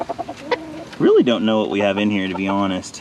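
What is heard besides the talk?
rooster clucking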